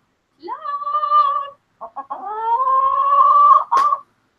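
Close-up chicken vocalizing: a rising, sustained squawk, then a couple of quick clucks and a longer, strained cluck ending in a sharp burst, with quiet between calls.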